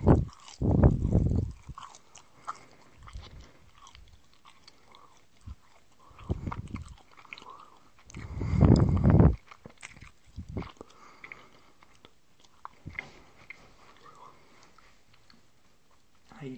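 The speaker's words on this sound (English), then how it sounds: "I'm gonna chew this part first because it looks like someone chewed it up." Close, wet chewing of a nutty candy bar, with bursts of crunching and smacking between quieter stretches, and a voice talking in between.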